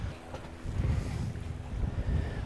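Dock creaking and rattling under steady wind noise, with irregular knocks and a low, rumbling roar that rises and falls.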